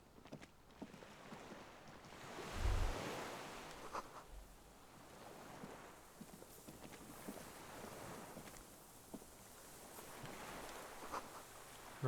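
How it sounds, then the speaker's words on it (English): Soft ocean waves and wind wash around a boat trip in the video game Disco Elysium, a low, faint, continuous surging ambience with occasional gentle swells and no talk. "Ah, the sound of the waves is so cool."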